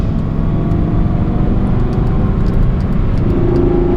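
The V10 engine of an Audi R8 with a Capristo exhaust, valves open, drones loudly and continuously up close, with a throaty, slightly shifting tone as the revs climb.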